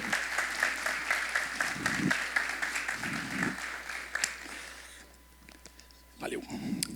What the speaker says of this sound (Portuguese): Eu quero receber então, com uma salva de palmas, o palestrante dessa noite, Marcos Renan.